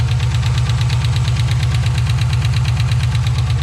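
A car with a K&N cold air intake and catback exhaust idling just after starting, a steady rhythmic lumpy pulsing rumble with regular ticking beats, close and loud without any voices.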